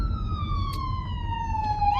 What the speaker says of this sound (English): ambulance coming.